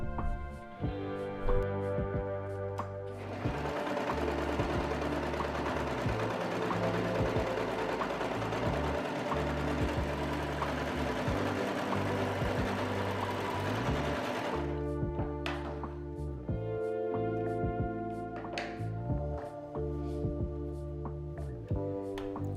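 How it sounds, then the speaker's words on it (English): Sewing machine stitches the shoulder seams that join the front and back of a fabric outfit, whirring steadily and loudly up close for about ten seconds, with shorter stop-start bursts of stitching before and after. "I'm simply sewing the front and the back together by the shoulder seams"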